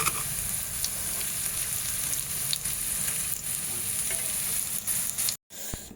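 Chana dal fritters frying in hot oil, a dense, steady crackling sizzle that runs continuously, briefly cutting out near the end.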